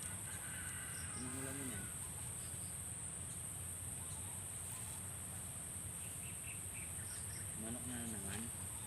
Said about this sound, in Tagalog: Manok na naman.